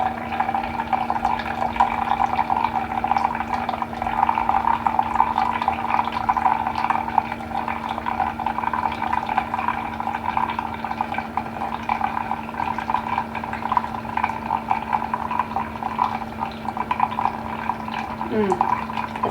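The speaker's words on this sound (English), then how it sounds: "I will have to put some more coffee in the Keurig" A Keurig coffee maker brews coffee with a steady bubbling, gurgling hiss and a constant motor hum, close and continuous for the whole stretch.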